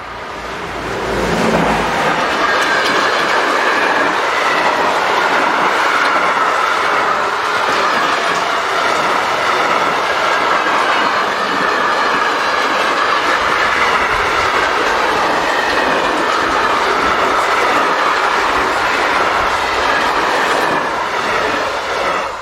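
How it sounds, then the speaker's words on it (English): Freight train hauled by locomotive 145060 heading south with empty flat wagons south of Dresden, a loud sustained rumble and clatter of wheels on rail that swells in at the start and rolls on steadily throughout. "Here 145060 heads south with empty flat wagons."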